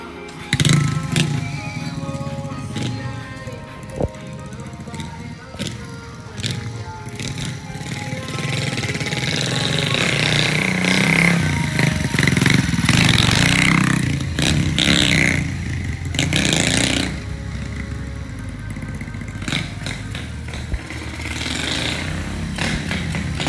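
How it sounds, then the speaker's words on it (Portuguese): A motorcycle revs and rides off near a lowered car, its engine rising and falling through throttle blips and a sustained drone with clattering mechanical noise, loud and close for over twenty seconds. "Vai sair uns galzinhos de moto?"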